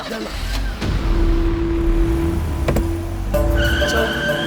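In a scene from a Tamil movie, a car starts and pulls away with engine noise and a brief tire squeal, nearby and fairly loud, while people talk over it.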